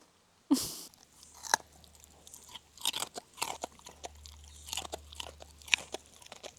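Someone chews a small snack up close, with crisp crunching bites at first and then a steady run of softer chewing and munching, with no talking.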